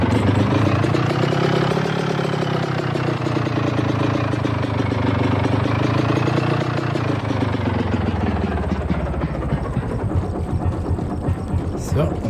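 A car engine idles steadily with a low rumble, and a voice talks over it before the engine is switched off near the end.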